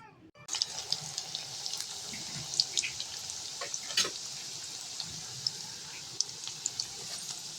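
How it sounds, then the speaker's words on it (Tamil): Boiled meal maker soya chunks drop into well-heated oil and fry with a steady, close sizzle and scattered crackling pops throughout. "ஆயில் நல்லா ஹீட் ஆயிடுச்சு. இப்போ இதை வந்து மிக்ஸ் பண்ணி வச்சுருக்க மீல் மேக்கர் வந்து இது கூட ஆட் பண்ணிக்கலாம்."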